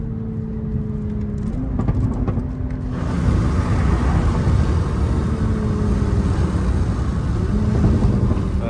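A Toyota A90 Supra with B58 engine and catless downpipe exhaust, a steady loud rumbling drone with a rising tone as revs climb, heard from inside or near the car, no talk.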